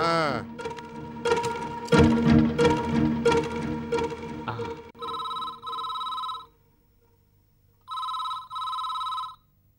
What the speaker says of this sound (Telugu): ఫోన్ ఇంతసేపటి నుంచి మోగుతుంది, ఎవరు చేయట్లేదు?